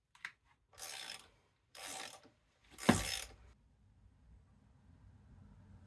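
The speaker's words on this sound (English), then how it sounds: "next we're going to want to remove the rear pad mounting bolt" Ratchet loosening the rear brake pad mounting bolt on a Honda XL700V Transalp motorcycle, three short close clicking bursts followed by a faint low hum.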